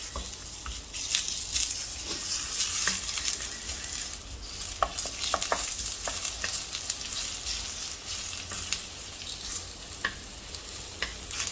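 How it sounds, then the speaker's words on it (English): Sliced onion sizzling in a hot pan for an Indonesian prawn curry, a loud continuous frying hiss with occasional spoon stirs and small taps, close and without talk. "first we are going to add in the sliced onion."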